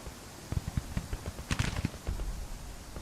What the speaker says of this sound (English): the sound of the gunfire, soothing, the sound of the muskets and the cannon